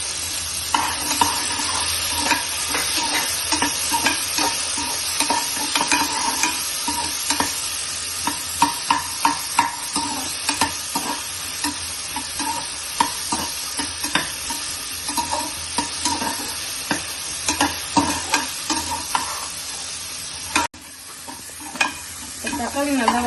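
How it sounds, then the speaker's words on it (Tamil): Chopped tomatoes sautéing with small onions in a pan for South Indian sambar, a loud steady sizzle punctuated by frequent spatula stirs and scrapes throughout, close up with no talking. "இப்போது கட் பண்ணி வச்சிருந்த 2 தக்காளி ஆட் பண்ணுறோம்."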